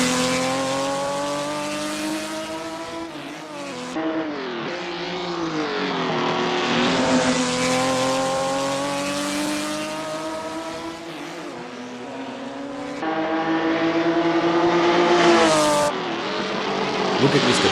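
Ferrari 275 race car in a racing video game on a Paris Arc de Triomphe street circuit, engine revving steadily with rising and falling pitch through gear changes and corners, loud and continuous throughout.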